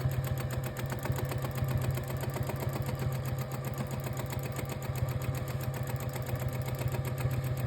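A domestic sewing machine runs steadily while free-motion stipple quilting, its needle chattering in a fast, even rhythm over a constant motor hum, close and unbroken throughout with no speech.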